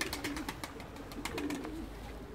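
Pigeons at a coop coo softly in a quiet setting, with repeated short low calls and a few faint flutters or chirps, no talk.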